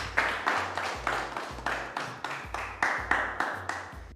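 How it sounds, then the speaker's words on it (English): Audience clapping for performers at the close of a staged session in a Ghanaian entertainment show, a steady run of repeated rhythmic claps with regular bursts, moderately loud and with no talk over it. "Clap for them once more."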